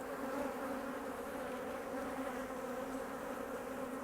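Honey bees hum in a steady, dense drone during a hive inspection, close and continuous with no voices.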